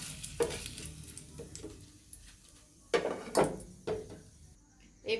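Fried banana flower pieces are lifted out of sizzling oil, a low hiss broken by several sharp clinks and scrapes of a utensil against the pan, close by and fairly quiet.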